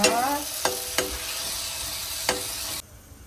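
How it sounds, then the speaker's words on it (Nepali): Cumin powder is stirred into an onion-tomato masala frying in a pan, with several distinct scraping knocks over a loud continuous sizzle that drops away abruptly near the end. "अब म जिरो पाउडर राख्छु मसलाको। यसलाई पनि एकछिन चलाउनुपर्छ।"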